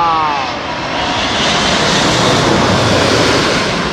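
A passenger airplane roars low overhead on approach to land at Heathrow Terminal 3, a loud, close, broadband engine rumble and rush that swells and sustains.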